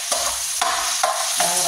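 Garlic and onion fry in a pan for ginataang kalabasa, a loud hiss of hot oil with four sharp spatula scrapes at a steady rhythm, close and with no voices.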